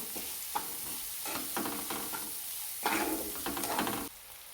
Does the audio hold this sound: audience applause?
no